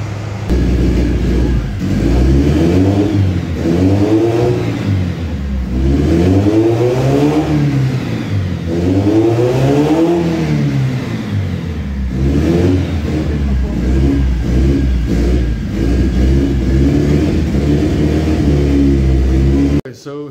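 A Nissan 280ZX drift build with an FJ20ET engine revving on a dyno and struggling to rev properly, several loud rising and falling engine sweeps one after another, close and sustained for about twenty seconds.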